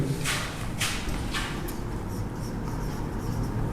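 Chalk or marker scratches across a classroom board in a few quick strokes, close and distinct over a steady low room rumble, no talking.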